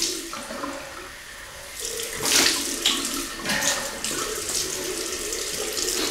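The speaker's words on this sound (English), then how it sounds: "So cold water rinse." A bathroom tap runs water for a cold rinse during a shave with a 1961 Gillette Fat Boy adjustable razor, a steady close splashing flow that grows louder and more agitated midway, with no talk.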